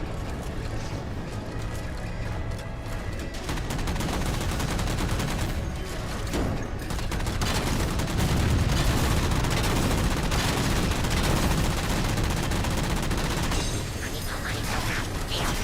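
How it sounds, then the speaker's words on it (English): Continuous weapon fire in the video game Halo 4, a dense rattle of rapid shots and mechanical clatter running steadily throughout at moderate loudness. "Fire the BFG!"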